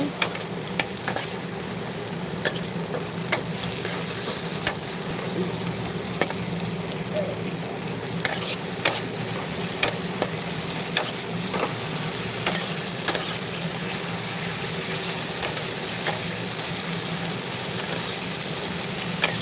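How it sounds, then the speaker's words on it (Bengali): A tomato and onion curry fries in a pan with a continuous low sizzle. Regular light scrapes and taps of the stirring spoon recur throughout at a moderate level, and no voices are heard. "তরকারিটা কিন্তু টমেটো আর পেঁয়াজ পুরো মজে গেছে তো আর একবার নাড়াচাড়া করে দিচ্ছি"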